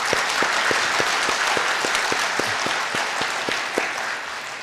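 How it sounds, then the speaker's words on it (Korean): A church congregation at a Korean sermon applauds together, a broad wash of clapping with a steady rhythmic beat of unison claps running through it, fading slightly toward the end. "우리 서로를 위해서 크게 박수 한번 하겠습니다"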